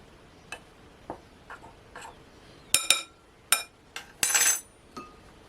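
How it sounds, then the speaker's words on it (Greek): Flour and baking powder stirred together in a bowl with a spoon, a series of sharp, close clinks and taps of the utensil against the bowl's side at irregular intervals, bursting louder near the end. "Ανακατεύω λίγο, να πάει το baking παντού."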